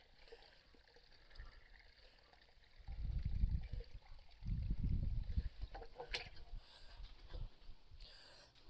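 Stored water emptied from a drum onto a farm field to make a drinking spot for animals and birds, heard as two low, gushing surges a few seconds each, moderately loud, then a softer trickle outdoors.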